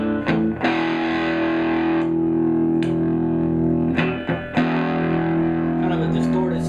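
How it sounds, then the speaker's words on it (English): Distorted electric guitar played through a Marshall Master MK 2 lead amp, held chords ringing steadily at moderate volume, broken by a few short choppy strums, with no voices heard. "kind of a distorted sound. I'm trying not to turn it up too much just to hear how it carries the distortion"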